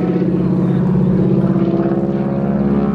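A T-6 Texan propeller aircraft flying an inside loop at an airshow, giving a loud, steady droning engine and propeller roar with a pulsing rhythm throughout.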